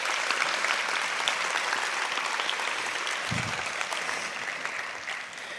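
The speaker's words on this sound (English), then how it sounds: "Let us extend our heartfelt thanks and give them a round of applause." Audience applause at a university graduation ceremony, a sustained, even roar of many people clapping in a large hall, steady and fairly loud before tapering slightly at the end.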